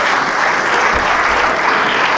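An audience at a fan convention applauds a guest, dense steady clapping filling the room at close range with no break.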